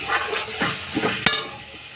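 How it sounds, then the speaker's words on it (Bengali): Chicken pieces fry in spiced oil while being stirred for kosha, with a dense close sizzle, rhythmic scraping strokes and one sharp clack of the spatula against the pan. "এই যে মাংস তুলে দিয়েছি, মাংসটা কষিয়ে নেব।"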